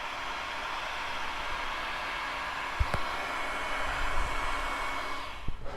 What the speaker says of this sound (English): we'll shrink them down with the heat gun